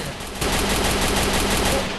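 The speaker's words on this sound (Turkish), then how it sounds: "iki, iki, iki silah sesi geliyor." Rapid gunfire from the mobile battle game Free Fire, a dense continuous burst of shots that starts abruptly about half a second in and stays loud to the end.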